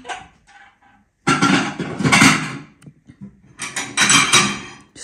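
Dishes and plates clatter in bursts, with clinking and knocking sounds close by, separated by short quiet gaps.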